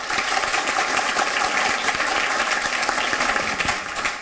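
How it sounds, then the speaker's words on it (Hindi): Audience clapping for a young poet at a Hindi poetry gathering, a dense, loud, sustained applause filling the room without pause. "आप बड़ी तालियों से इनका बड़ा मन कीजिए।"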